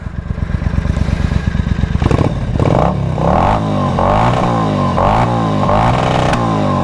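A warmed-up Triumph Bonneville America motorcycle idles with a rapid loping thump, then its engine is blipped through a series of sharp revs that rise and fall repeatedly, loud and close with no voices.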